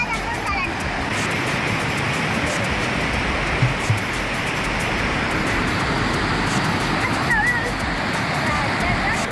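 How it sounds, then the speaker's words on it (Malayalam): Parikkad waterfall pours in a steady, dense roar of rushing water that fills the whole clip at constant loudness, with faint distant voices of children bathing underneath. "പാരിക്കാട് വെള്ളച്ചാട്ടത്തിൽ കുളിക്കുകയാണ്"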